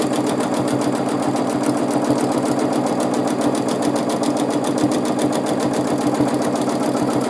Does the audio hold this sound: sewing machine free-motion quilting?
yes